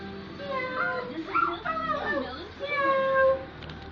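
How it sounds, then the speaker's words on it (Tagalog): A cat meows several times in drawn-out, rising and falling cries, close by, mixed with people talking and cooing around it. "Ando ninang Laydin, nakita niya yung pusa namin. Meow"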